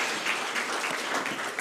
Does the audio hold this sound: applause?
yes